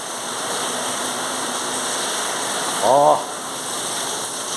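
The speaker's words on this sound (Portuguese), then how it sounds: "5h17, chuvinha." Steady hiss of light rain falling outdoors in the late afternoon, continuous and even, with a brief spoken exclamation partway through.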